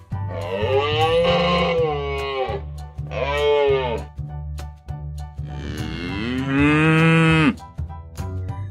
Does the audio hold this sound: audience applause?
no